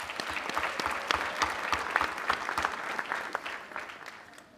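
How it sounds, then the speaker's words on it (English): A graduation ceremony audience applauds steadily for several seconds, a dense wash of many hands clapping at moderate loudness that thins out toward the end, with no talking. "Can we give them all a hand of applause?"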